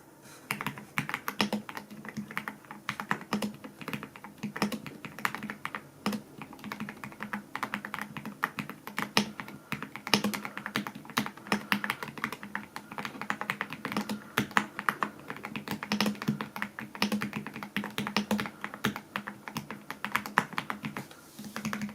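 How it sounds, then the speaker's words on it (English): Typing on a DAREU EK75 Pro gaming keyboard with Hi-Fi Dream switches, a fast, steady stream of close, crisp keystroke clacks running continuously without pause or speech. "We're going to do a typing test real quickly."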